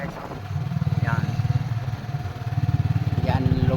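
A motorcycle engine runs close by at a riverside in Lanao del Norte, giving a steady, throbbing low rumble with a fast pulsing beat throughout, while a voice talks over it.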